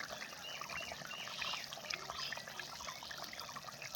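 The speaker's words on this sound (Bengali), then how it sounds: "দেখো বন্ধুরা, আমার ঝোলটা কিন্তু ফুটে গেছে" Cauliflower and egg curry boils in a pot, a faint, steady bubbling and gurgling with a light watery texture, heard alone without speech.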